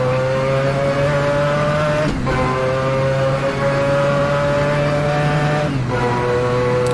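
A race car in a video game accelerating along the Mulsanne straight, its engine note climbing loud and steady through the gears, with two brief dips at the shifts.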